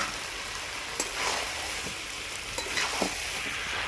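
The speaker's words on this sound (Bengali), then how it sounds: "মাংসের সঙ্গে আলুগুলোকে ভালো করে নাড়িয়ে আর একটু কষিয়ে নেব" Chicken and potatoes stirred and fried together in a pan, a dense hissing sizzle with a few sharp scrapes of the spoon, close and steady throughout.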